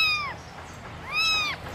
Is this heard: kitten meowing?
yes